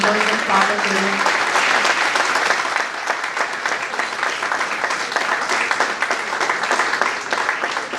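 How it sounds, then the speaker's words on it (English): An audience at an AI conclave gives a loud, sustained round of applause for panel members, a dense steady wash of clapping that holds for the full stretch, with a voice briefly audible over it at the start. "Can we have a huge round of applause for the panel members and Father Karu?"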